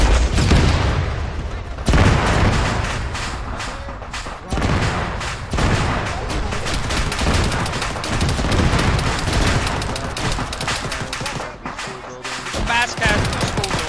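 Heavy gunfire in an ArmA 3 military battle against a BTR, bursts of rifle and machine-gun shots with booming impacts going on almost nonstop, mixed with shouted voice chatter from players.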